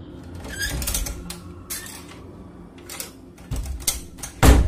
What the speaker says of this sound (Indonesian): Dengan langkah pelan ibu membuka pintu rumah.